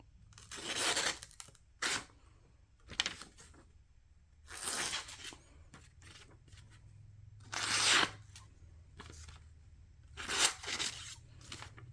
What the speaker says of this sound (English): now let's go into cutting test of paper